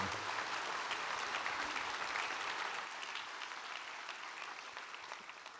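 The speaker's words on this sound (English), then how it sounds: "Let's have a round of applause for Galen Crum, Chuck Garrett, and Zechariah" An audience applauds steadily at a tribal nations gathering, a dense wash of clapping that slowly fades toward the end.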